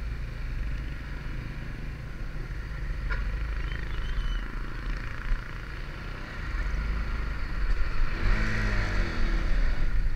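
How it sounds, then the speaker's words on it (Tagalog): Heavy vehicles rumble past a roundabout on a road, a steady, loud low-pitched roar of engines and tires that swells near the end as a large vehicle goes by close. "Ayan, lalaki ng sasakyan."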